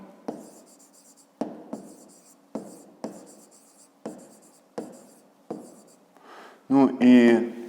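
Handwriting on paper makes a series of short, close scratching strokes in an irregular rhythm, followed by a brief burst of speech at the end.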